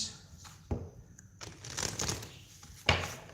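Tarot cards are riffled and shuffled in a few quick, crisp bursts with soft shuffling in between, close by and moderately quiet.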